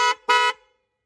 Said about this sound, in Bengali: এটা হরেন হরেনটা দেখলাম